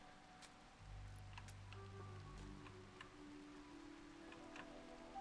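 Steady rain falling in the video game Rimworld, a continuous soft patter and hiss with faint scattered ticks, joined by a low droning tone that swells partway through and holds at an even, moderate level.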